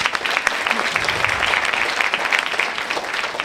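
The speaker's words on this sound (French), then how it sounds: "applaudissez-la" Audience applause at a French screening-and-talk event, a steady patter of many hands clapping, fairly close and even, with no talking over it.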